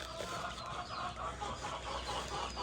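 Several farm chickens keep up a low, continuous clucking at close range, short repeated calls in a loose rhythm over a steady low hum, with no voices.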